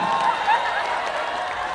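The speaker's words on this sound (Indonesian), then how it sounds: "Kenapa tepuk tangan?" A crowd at an Islamic New Year gathering in Sidoarjo applauds during a comic sermon, a dense, steady clapping wash lasting throughout, fairly loud and close.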